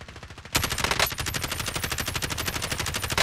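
Automatic gunfire in the video game Warzone on Rebirth Island: a dense, rapid burst of loud, close shots that starts after a brief lead-in and rattles on without a break to the end.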